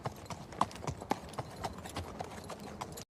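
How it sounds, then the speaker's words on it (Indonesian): A ridden horse's hooves clip-clop in a steady, moderately close rhythm for about three seconds, with no talk over them, before the sound cuts off abruptly. "Menggunakan seekor kuda sebagai kendaraan sekaligus teman satu-satunya yang ia miliki, Romero sendirian mengembara"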